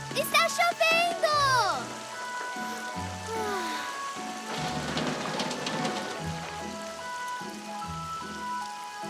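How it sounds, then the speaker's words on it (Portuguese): Rain falls in a cartoon setting, a steady broadband patter running under excited children's voices and music throughout. "Está chovendo!"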